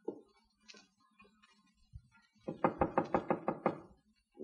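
Someone knocks on a door in an old radio drama: a single faint tap, then a crisp run of about eight quick, even knocks close by, with no talk over them.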